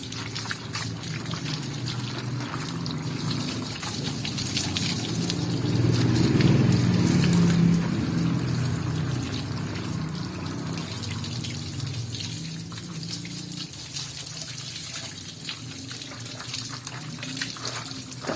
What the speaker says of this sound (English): Time to clean them up with just running water.